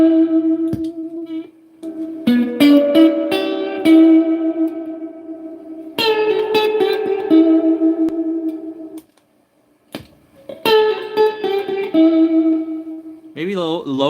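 Guitar notes played through spring reverb, real and digital units compared, ring out in short plucked phrases with long echoing tails, separated by brief silences, and end in a wobbling sustained tone.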